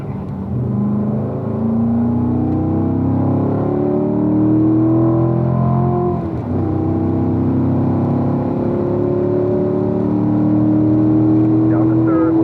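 A car on a racetrack pulls hard down the straightaway, its engine note climbing steadily through the gears with a brief dip at a shift, loud and close from inside the cabin, with an instructor's voice faintly under it.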